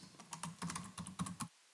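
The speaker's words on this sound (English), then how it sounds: "I'll start typing my thoughts." Quick bursts of typing on a computer keyboard, a close run of crisp key clicks in an uneven rhythm for about a second and a half, then stopping, with no voices.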